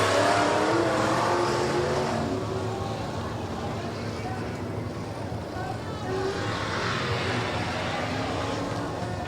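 Dirt-track race cars at Rapid Speedway roaring past in a pack, engines swelling as they approach and fading away, loud and sustained with a race announcer talking over the top.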